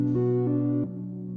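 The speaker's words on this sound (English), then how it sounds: "it's going to give me just these 3 notes being triggered by the random LFO" An Instruo Seashell miniature analogue synth plays three notes triggered by a random LFO, a sustained harmonic drone that changes pitch at each trigger, loud and close with no talking.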